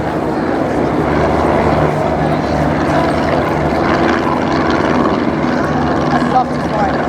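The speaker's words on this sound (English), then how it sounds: "we have two replica Junkers J1 ground attack aircraft, and followed by two Fokker triplanes" Replica Junkers J1 ground attack aircraft and Fokker triplanes flying past at the Wings and Wheels airshow at Dunsfold, a steady loud engine drone filling the air throughout, with crowd talk mixed in.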